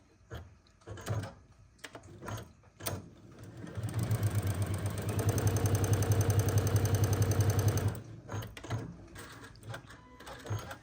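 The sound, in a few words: sewing machine stitching quilt fabric rectangles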